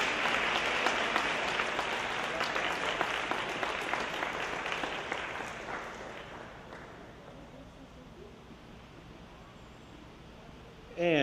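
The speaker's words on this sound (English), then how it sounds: "Let's give him a big round of applause." An audience at a boys' swim and dive meet applauds a swim team captain, with dense clapping that stays loud for several seconds, then thins and fades toward the end.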